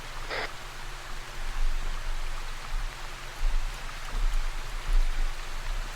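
Steady hiss of rain during an Arma military operation, a broad, even wash of falling water with a low rumble underneath, holding at a moderate level throughout with no voices.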